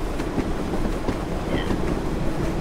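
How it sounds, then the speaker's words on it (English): Simulated SE&CR H Class steam train slowing down in a train simulator game, a steady rolling rumble with rhythmic clickety-clack of wheels over rail joints, continuous and fairly loud with no voices. "These steam trains don't slow down very fast"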